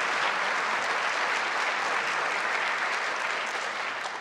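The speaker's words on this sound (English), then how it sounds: "Let's give them a hand." Sustained applause from a forum audience thanking sponsoring groups at a League of Women Voters event on public versus private power, dense even clapping that holds steady for several seconds and thins slightly at the end.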